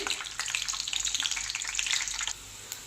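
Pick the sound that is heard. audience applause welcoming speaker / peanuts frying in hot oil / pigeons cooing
peanuts frying in hot oil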